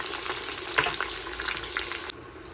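Onions fry in oil until brown for a Maharashtrian-style chicken dum biryani made in a pressure cooker, giving a steady close hiss with a few stirring scrapes, then a slightly quieter sizzle near the end; no talking.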